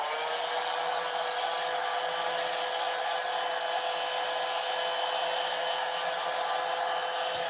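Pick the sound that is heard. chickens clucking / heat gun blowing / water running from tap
heat gun blowing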